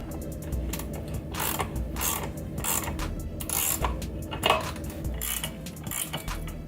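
A wrench ratchets in quick bursts of clicking while nuts on Honda Grom axle sliders are tightened, the close metallic ticks repeating in short runs with brief pauses between.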